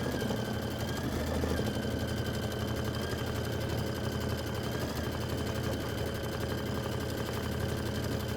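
A Jeanne embroidery machine stitching a quilt applique block, a steady fast mechanical whir and rattle running continuously at an even loudness, close by with no voices.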